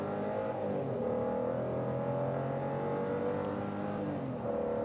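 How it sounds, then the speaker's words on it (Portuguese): Hyundai Creta N Line with a 1.0 turbo engine launching hard from a standstill, its engine note climbing steadily in pitch through a gear with a brief dip at a shift, steady and close with no talking. "Então vamos estolar o carro aqui"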